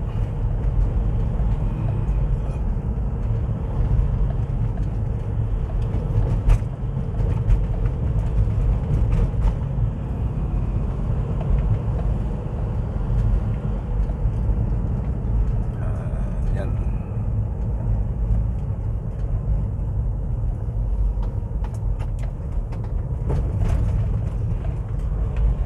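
Constant low rumble of vehicle traffic and engines droning on a road under construction in Nueva Vizcaya, with occasional thumps, continuing without pause throughout.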